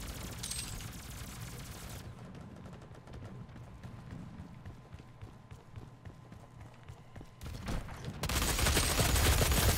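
Shotgun fire in DOOM multiplayer team deathmatch: loud, widely spaced blasts come between stretches of quieter footsteps and distant gunfire.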